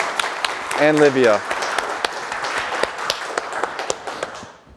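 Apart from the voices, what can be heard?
audience applause for the presenters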